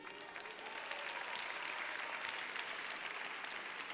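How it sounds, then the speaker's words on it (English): An audience at a Cleveland mayor's State of the City address claps steadily, a dense and even burst of applause from a crowd indoors that lasts the whole few seconds. "I don't know if you are clapping"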